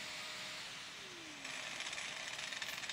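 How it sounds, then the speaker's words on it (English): An angle grinder carves a comfort contour into a solid guitar body, giving a steady, close, harsh grinding hiss that turns rougher and more pulsing partway through, with no voices. "I'm going to use the angle grinder to make those lines meet through the middle"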